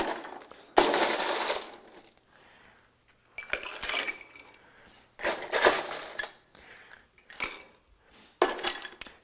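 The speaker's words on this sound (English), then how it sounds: "Now let's add the ice." Ice cubes are dropped into a glass cocktail mixing glass for a stirred drink, making several bursts of clattering, clinking cubes at close range separated by short pauses.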